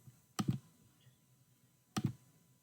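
Two separate sharp computer mouse clicks on a download button, each a quick double snap, spaced about a second and a half apart in a quiet room.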